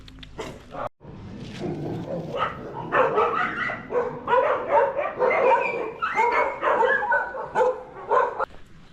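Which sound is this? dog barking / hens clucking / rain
dog barking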